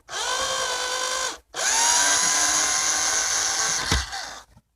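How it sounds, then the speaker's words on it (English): A power drill unscrews the rear L bracket in a van build with two loud, close whirring bursts. The first is short, and the second is longer and ends with a clunk and a few faint rattles. "unscrewing the rear L bracket"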